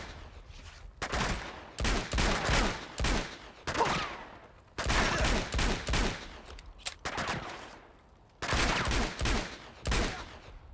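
Gunshots in the video game Uncharted 2, set in Nepal: loud bursts of rapid automatic fire arrive in several clusters separated by brief pauses, close and punchy with no talking.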